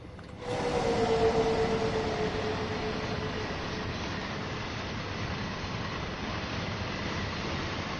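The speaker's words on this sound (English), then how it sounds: "Freight train inbound." A freight train rumbles past in the Train Sim World 5 game on the Cologne–Aachen high-speed line, a steady loud broadband roar that swells in after half a second, with a brief whining tone early on, then holds.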